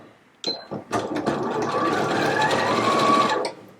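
Sewing machine stitching back and forth to reinforce the end of a seam on a jacket, a short start followed by a steady fast whirring run of about three seconds that then stops.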